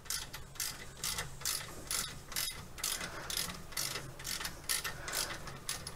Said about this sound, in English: Might as well use a ratchet and socket.